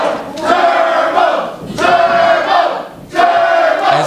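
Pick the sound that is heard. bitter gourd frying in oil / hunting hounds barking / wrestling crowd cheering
wrestling crowd cheering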